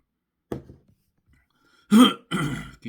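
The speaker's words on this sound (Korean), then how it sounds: "기침이 자꾸 나서" A short cough, then a throat clearing and another rougher cough close by, separated by brief silences.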